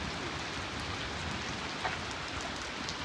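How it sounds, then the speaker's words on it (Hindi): Heavy rain pours steadily with wind during a family outing, a dense unbroken hiss of drops on surfaces, close and loud with no voices. "देखिए बहुत तेज बारिश है, हवा के साथ साथ बारिश भी बहुत तेज है।"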